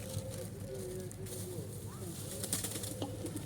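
Pigeons gather while being fed, giving low cooing calls and light wing flutters nearby amid soft outdoor ambience, with some faint rustling and clicks.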